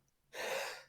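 A person lets out a second sneeze, a sudden breathy burst lasting under a second, close and fairly loud, with no talking over it.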